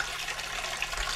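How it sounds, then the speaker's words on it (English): Water pouring and splashing as it is drained off a pot of cooked apples for homemade applesauce, a steady close rush of liquid with no pauses. "Drain the water"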